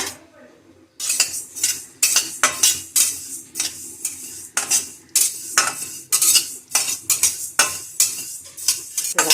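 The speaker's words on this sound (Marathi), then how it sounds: "हा सगळा एकत्र मसाला आपल्याला भाजून घ्यायचा आहे" A mixed spice masala is dry-roasted in a kadhai on a gas stove: a spatula scrapes and clinks against the metal pan in brisk, rhythmic strokes, loud and close, with a faint sizzle underneath.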